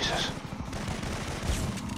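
Video game gunfire, a dense continuous rattle of rapid shots at close range lasting a couple of seconds, with a voice faintly underneath.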